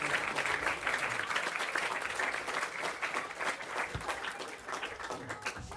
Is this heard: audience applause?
yes